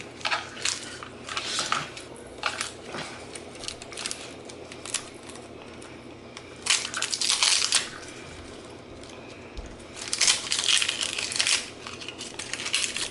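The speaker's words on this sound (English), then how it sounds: "So I'm gonna wrap the rest in some plastic wrap and save it." Leftover sweet onion being wrapped in plastic wrap, with bursts of crinkling and crackling film that swell and fade close by, no talking.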